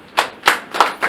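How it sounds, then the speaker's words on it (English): Four distinct, separate claps ring out close and loud at a community stakeholders' gathering, evenly spaced in a brisk rhythm. "Let's clap for him"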